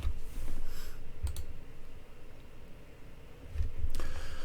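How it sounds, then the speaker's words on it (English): Numbers are typed on a computer keyboard, giving a few scattered close-up key clicks and soft taps in irregular small clusters over a low background hum. "we're just typing numbers that are from the printout"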